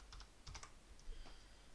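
A few quick, light keystrokes on a computer keyboard as a stream title is typed, with short clusters of taps followed by a pause, faint and close against quiet room hiss.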